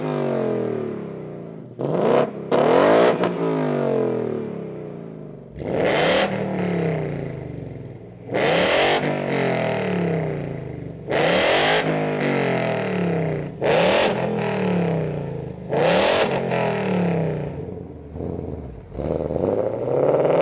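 A 2018 Ford Mustang GT with long tube headers and active exhaust in normal mode, revved repeatedly while stationary, giving six or seven loud rising-and-falling V8 blips with short gaps between them, close and dominant throughout.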